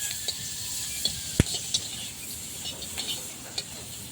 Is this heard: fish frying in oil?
yes